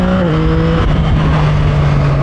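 2024 Yamaha MT-09 or XSR900 GP motorcycle engine accelerating on the road, a loud, steady drone with its pitch shifting across a quick gear change, heard close over wind noise without speech.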